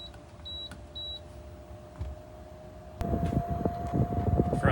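An air conditioning unit switches on inside a Land Cruiser, with a few beeps and a steady tone, then a louder broadband rush of blowing air and rattling that continues close by.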